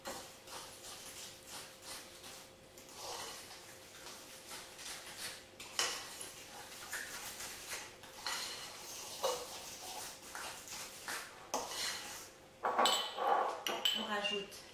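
Egg yolks and sugar being mixed in a bowl for Swiss brioche filling, with a spoon or whisk clinking and scraping against the bowl in irregular taps, close and moderately quiet, mixed with occasional speech.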